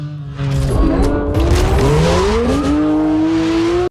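Car tires squealing in a Blender-made car animation, a loud continuous screech with rising and gliding pitch over engine roar, close and sustained for several seconds before cutting off abruptly, with no talk.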